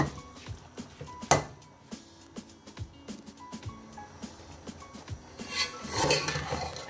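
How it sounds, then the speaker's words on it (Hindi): Carrot halwa with ghee mixed in a pan over a low flame: irregular spoon clinks and scrapes against metal with a soft squishy churning, close and fairly quiet, no talking. "घी ऐड करने के बाद हम फ्लेम को थोड़ा सा स्लो करेंगे और इसको मिक्स करेंगे।"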